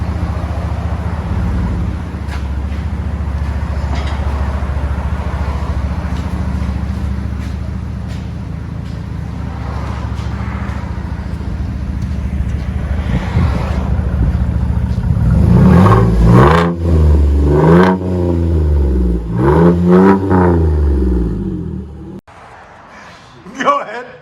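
Chevy Silverado with a 4.3 V6 and straight-pipe exhaust idling with a low rumble, then snapping through several sharp revs that rise and fall near the end, with people talking over the idle.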